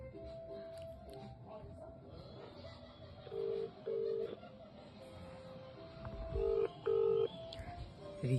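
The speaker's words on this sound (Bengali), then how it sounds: "রিং করতেছে।" An outgoing phone call rings out in repeated short paired tones, each burst separated by pauses, faint under quiet room noise and a soft voice.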